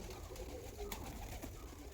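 Pigeons, young birds of top-class breeds such as Andhra Abluk, Lalsira, Star and Pilanka, coo softly and faintly in a quiet loft, with low murmuring calls overlapping throughout.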